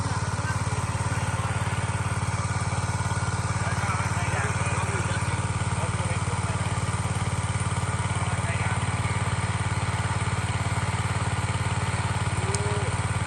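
An engine-driven water pump draws water from a rice field in rural Isan, Thailand, giving off a steady, unbroken low mechanical drone with a faint clatter, close and constant throughout.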